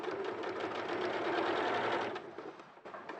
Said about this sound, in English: So I'm stitching just close to the edge.